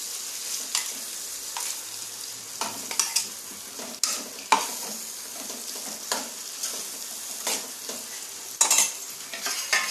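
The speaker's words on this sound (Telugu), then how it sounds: "అల్లం వెల్లుల్లి పేస్ట్ బాగా ఫ్రై అయి ఉంటుంది" Steady sizzling of ginger garlic paste frying in a pan, with repeated scraping stirs at irregular intervals; close and fairly quiet, no voices.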